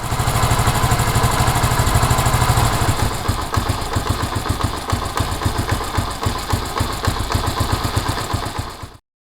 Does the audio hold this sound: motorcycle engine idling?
yes